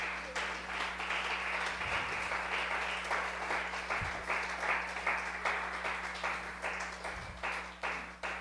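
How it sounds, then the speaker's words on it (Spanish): Applause from a congregation at a church service, a steady wash of many hands clapping at moderate distance over a low hum, continuing evenly without talk. "Dale un aplauso a ese Dios."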